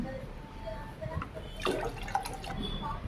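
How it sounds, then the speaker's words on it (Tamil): Water splashes and trickles into a cooking pot of rice at moderate volume, with a steady background hiss. "2 டம்ளர் தண்ணி ஊற்றிக்கலாம்."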